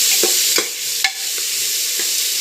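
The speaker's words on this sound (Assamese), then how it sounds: "ধুনীয়াকৈ ভাজি ল'ম" Rice fries and sizzles in a pan for pulao, a constant hiss broken by several scraping strokes of a stirring spoon at irregular intervals, close and fairly loud, with no talking.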